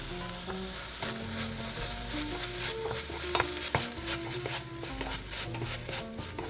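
Beef stir-frying in a pan with gochugaru red pepper flakes sizzles steadily, with repeated clacks and scrapes of stirring throughout, close and fairly loud with no talking.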